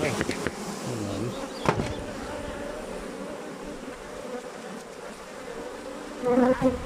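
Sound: honey bees buzzing during hive inspection

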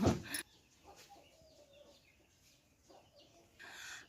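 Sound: chickens clucking

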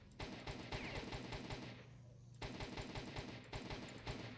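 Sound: automatic gunfire in S.T.A.L.K.E.R. Shadow of Chernobyl video game

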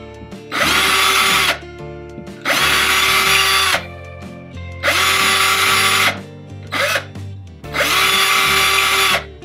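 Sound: power drill enlarging holes in drywall

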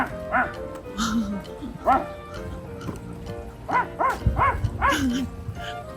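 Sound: dogs barking at a glamping site

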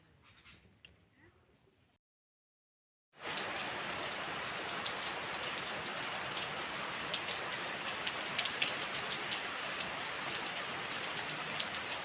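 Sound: heavy rain falling

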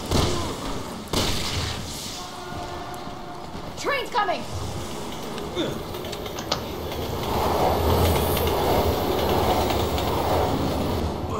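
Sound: train running in video game Resident Evil 6

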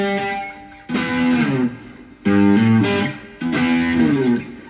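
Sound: cigar box guitar played with heavy distortion

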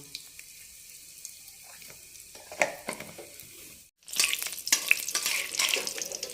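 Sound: cumin and asafoetida sizzling in hot oil in a wok

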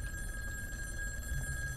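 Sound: telephone ringing in video game In Sound Mind

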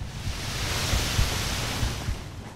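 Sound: explosion in the video game Darksiders

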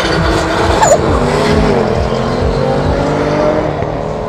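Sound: Jaguar and BMW cars drag racing on quarter mile

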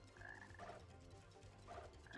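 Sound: frog croaking in Sonic Heroes, video game

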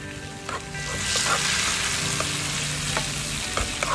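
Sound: garlic frying in a pan

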